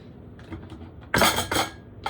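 Knocks on a wooden chopping board, two sharp loud raps close together near the middle and a third briefly at the end, after a quieter stretch.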